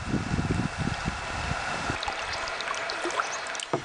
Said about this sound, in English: We'll paddle down the lake here and see what happens.